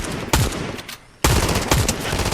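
Rapid automatic gunfire in Fortnite, loud bursts of shots in two close volleys separated by a short lull, with no talking.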